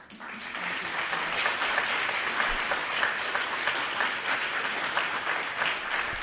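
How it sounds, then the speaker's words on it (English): Steady applause from a conference audience at an Agile Day event, dense continuous clapping holding at an even level throughout, fairly close and filling the room. "So please, big applause."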